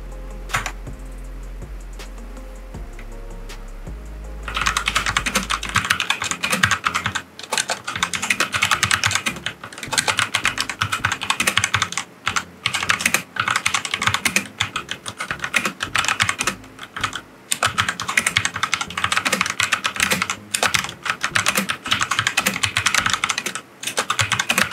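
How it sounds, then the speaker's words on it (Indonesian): Rapid typing on a Digital Alliance Meca 6 mechanical keyboard fitted with Otemu Black switches, close and loud, with a dense run of clacky keystrokes and brief pauses, after a short quiet start. "seperti inilah suara Black Switch Otemu yang terpasang di keyboard ini pada saat digunakan untuk mengetik dan juga bermain game."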